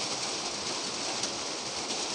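Steady hiss of rain falling, an even wash of noise with no breaks, no voices.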